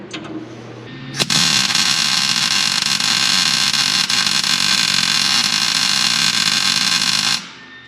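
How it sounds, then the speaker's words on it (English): A steering bracket being welded to the cross member of a 1930 car, a loud, continuous crackling buzz that starts abruptly and runs steadily for about six seconds before cutting off, close and alone. "now I can just weld that to that cross member, and that should help add some strength"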